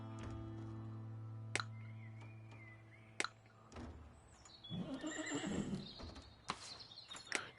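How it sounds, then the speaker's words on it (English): Horses in the zoo-building video game Let's Build a Zoo whinny and neigh over soft clip-clopping hooves, with sharp clicks and a low electronic hum. The sounds are moderately loud, with no voices. "We have a lot of horses."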